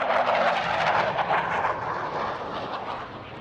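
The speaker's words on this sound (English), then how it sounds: "stand by for a lovely view of the topside as Patrick manoeuvres in this delightful pass" Hawker Hunter jet flying an airshow display pass, a broad roaring jet noise that is loud at first and slowly fades as the aircraft moves away, with no voices.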